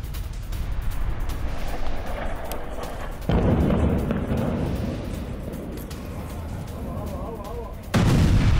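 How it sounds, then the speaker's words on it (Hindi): Explosions and gunfire from an Israeli air strike on a Hezbollah center and weapons store in Beirut, Lebanon: continuous rumbling blasts and crackling shots with sharper surges partway through and near the end, and faint voices mixed in. "लेबनन में इजराइल का विध्वंसक एयर अटैक"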